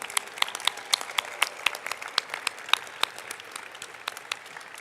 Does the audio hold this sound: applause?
yes